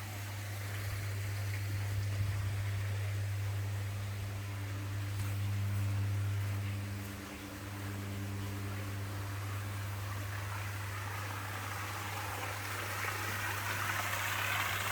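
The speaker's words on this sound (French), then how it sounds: "de la cascade extérieure, avec l'eau qui ruisselle de la piscine à débordement" Water trickles down an outdoor cascade fed by an infinity pool at a luxury villa in Kamala, Phuket, making a steady, soft rushing hiss over a constant low mechanical hum.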